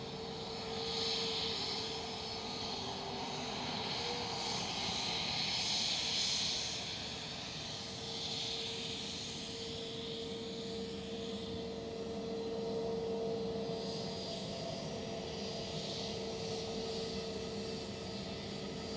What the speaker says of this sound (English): It's a massive engine, so it probably is a Neo.